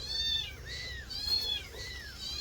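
Small kittens in a rural home yard meow repeatedly in thin, high cries, several overlapping calls at moderate distance with no talking.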